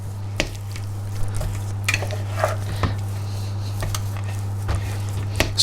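Keto crinkle cookie dough mixed in a bowl, with soft squishy strokes and occasional sharp clinks of a utensil against the bowl over a steady low hum.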